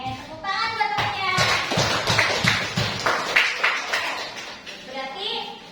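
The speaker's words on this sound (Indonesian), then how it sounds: "tepuk tangan buat temannya" Primary-school children in a fifth-grade classroom clap for a classmate, a burst of uneven hand claps with children's voices and chatter mixed in, fairly close and moderately loud.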